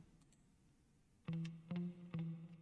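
After a quiet moment, three guitar notes processed through the Empire amp simulator plugin ring out in an even rhythm, fuller and slightly effected in tone.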